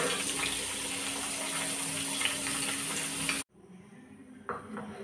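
Potato and papaya frying in a pan give off a steady loud sizzle while being stirred, then the sound cuts off abruptly to a quiet background with a brief clatter near the end.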